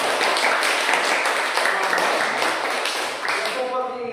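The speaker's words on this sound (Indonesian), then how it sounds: "Mana tepuk tangannya?" A classroom of students breaks into applause, a steady wash of clapping hands sustained for several seconds that thins out toward the end, with a teacher's voice briefly heard.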